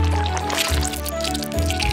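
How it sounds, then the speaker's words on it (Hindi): Melted Nutella chocolate drips and oozes in thick, wet squelches, with a low hum underneath and soft liquid sounds close to the microphone. "इस चॉकलेट को धीरे धीरे खूबसूरत चॉकलेट फैक्ट्री की तरह टपकते हुए देखो।"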